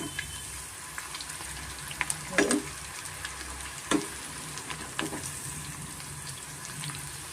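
Banana flower pakoda frying in oil over a medium flame gives a steady close sizzle, broken by a few brief clinks and stirring scrapes.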